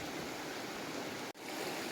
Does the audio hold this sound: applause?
no